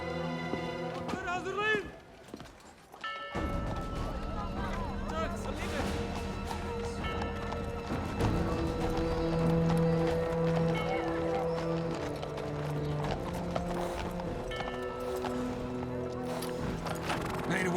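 Hooves clatter in a quick rhythm as horses gallop in a drama film scene, layered with music and other scene sounds and with people talking over them.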